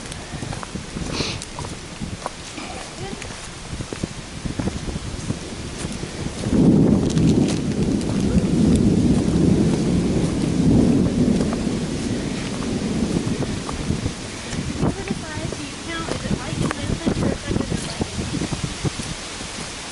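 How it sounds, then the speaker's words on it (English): Thunderstorm on the Appalachian Trail: a long low rumble of thunder swells in the middle and rolls away, over a steady hiss of rain and wind, with a voice briefly audible. "At 3 o'clock, we are sitting in a thunderstorm, or about to be."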